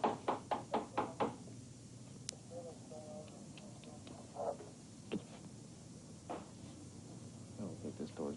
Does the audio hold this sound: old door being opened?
yes